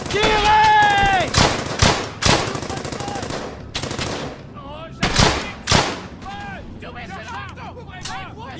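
Machine-gun bursts and rifle fire in the Brothers in Arms: Hell's Highway game, loud repeated volleys with sharp cracks, shouted voices calling out over the shooting between bursts.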